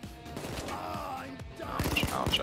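Gunfire during a bank heist in the video game PayDay 2, a rapid string of crackling shots that grows louder and denser toward the end, with game sounds around it.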